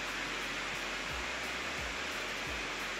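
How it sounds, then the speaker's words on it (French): Cooling fans of an AORUS 15P gaming laptop blow hard in a loud, continuous broadband rush, steady and close, with a few soft low thumps under the roar. "Effectivement, c'est pas hyper silencieux, ça souffle très fort"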